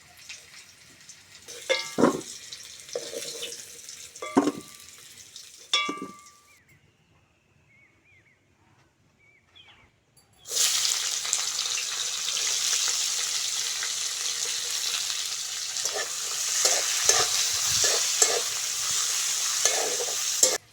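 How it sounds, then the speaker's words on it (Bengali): Onion frying in a pan, stirred: a quiet stretch of scattered scrapes and taps gives way halfway through to a sudden, loud, continuous sizzle that holds to the end, broken by a few spoon knocks. "পেঁয়াজটা হালকা করে ভেজে নিয়েছি।"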